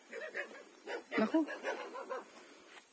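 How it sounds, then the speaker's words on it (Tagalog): Dogs at a family home in the Philippines yip and bark in short bursts close by, with a person speaking briefly over them. "Dito yung mga aso."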